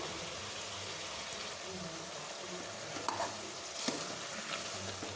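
Ground masala stirred into a hot pan of fried palak and onions for chicken biryani, a constant close sizzle with scraping stirs and a couple of sharper clinks, no clear talk.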